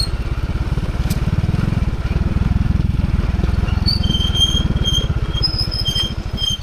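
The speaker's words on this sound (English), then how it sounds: "Just the engine brake." A motorcycle descends a long mountain road from Tinongdan, Benguet toward San Nicolas, Pangasinan on engine braking, its steady low rumbling drone loud and close throughout with a little wind.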